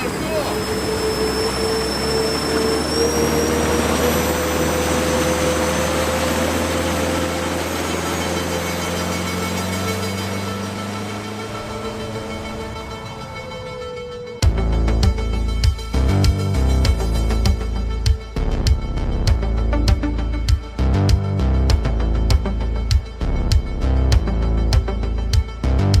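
A large homemade RC ground-effect aircraft model on water runs with a steady, whining engine whose pitch slowly climbs, then bursts into a loud, pulsing roar as it accelerates, with voices nearby.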